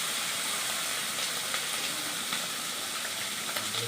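Baim fish, an eel, frying in hot oil for a Bengali curry gives a steady, close sizzle with soft crackles and pops, continuous and even throughout.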